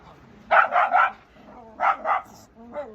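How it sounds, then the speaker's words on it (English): Several dogs barking nearby in loud, close bursts: a quick run of three barks, a pause, then two more, and a fainter final yip. "these are my dogs that keep me alive, but they are a bit noisy sometimes"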